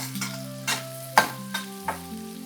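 Chopped onions for butter chicken sizzle in a pan while a spoon strikes and scrapes it in a few distinct knocks, over a steady background hum.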